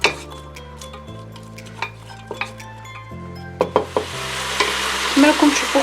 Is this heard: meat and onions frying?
yes